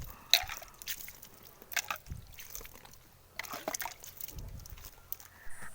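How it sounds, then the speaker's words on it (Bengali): Water is sprinkled by hand onto loosened soil in a vegetable grow bag, making soft, scattered splashes and drips in a few short bursts, close and fairly quiet, with no talking. "আর এবার একটু জল ছড়িয়ে দিচ্ছি"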